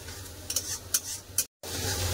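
Fish curry spice masala being sautéed in a pan, with a steady sizzle and a few quick scraping stirs, close and brief, broken by a moment of silence.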